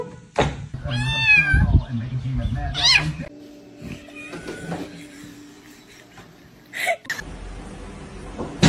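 A house cat meows in several loud, wavering cries up close, with thumps and a voice talking between them.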